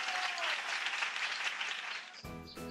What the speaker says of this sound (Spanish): vamos a darle aplausos